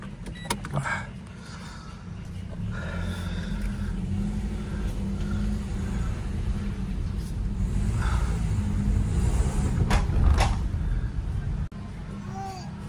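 Engine of a Toyota Vios with a 2NZ engine, suffering check-engine and shift-shock problems, rumbles low and steady while driving, with cabin noise, a few sharp clicks and a voice talking over it.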